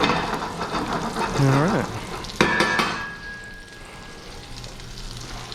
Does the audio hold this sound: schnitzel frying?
yes